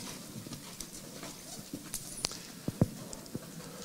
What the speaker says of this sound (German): So, das Pferd galoppiert ganz gut in Selbsthaltung.